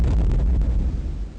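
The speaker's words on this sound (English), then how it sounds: "The explosions featured in Crusader are probably the best looking explosions from any game I've ever seen or played" A heavy, rumbling explosion from the 1995 video game Crusader: No Remorse, loud and close, with a dense low-end roar that slowly decays over about a second and a half, with no talk.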